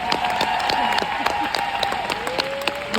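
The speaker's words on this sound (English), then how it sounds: "Give them a round of applause." Round of applause for the Advisory Council and Equity Council at a business conference. The crowd claps thickly and continuously, with a sustained tone ringing over the clapping.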